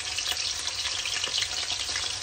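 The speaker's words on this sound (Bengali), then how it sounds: "এখন আমি চিকেনটা দিচ্ছি ভাজার জন্য" Chicken marinated with ginger, garlic and salt fries in a pan with a steady, dense sizzle and crackle at close range, with no voices.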